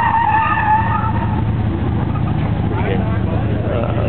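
A drifting race car's tires skid and squeal over a loud, continuous engine drone, with voices talking in the background.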